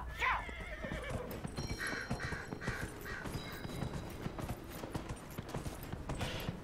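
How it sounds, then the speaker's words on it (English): A horse whinnies near the start, followed by continuous clip-clop hoofbeats and a busy, synthetic-sounding outdoor background in Dragon Age: Inquisition. "this horse is slow"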